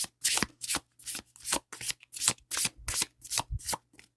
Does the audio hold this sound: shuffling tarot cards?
yes